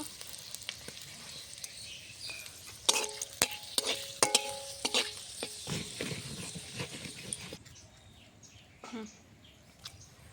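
Bay leaf and halved dried chillies fry in refined oil in a wok, crackling and sizzling with sharp spits and clinks, then settling into a quieter, fainter sizzle for the last few seconds.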